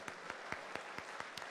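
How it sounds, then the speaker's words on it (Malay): A small audience claps for the winner of a Proton bag at an event launching the new Proton Saga. The clapping is faint and steady, with a handful of evenly spaced sharp claps above a soft wash of applause. "Tepukan gemuruh"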